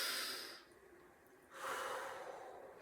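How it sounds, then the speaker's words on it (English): A person breathing in and out through the mouth during a squatting exercise: two long, airy, rushing breaths with a short quieter gap between them, close and steady with no speech. "we're gonna just breathe through our mouth"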